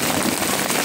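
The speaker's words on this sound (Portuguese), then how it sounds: "Chuva de muitas trovoadas." Heavy thunderstorm rain near the Acaraú river bridge in Sobral, Ceará, a loud, dense wash of falling water with no talking.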